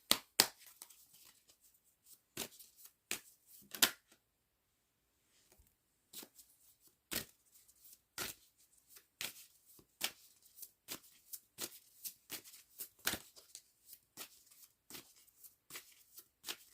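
Tarot cards being shuffled by hand: a steady run of crisp riffling bursts and soft slaps, close and fairly quiet, with a brief pause partway through and no talking.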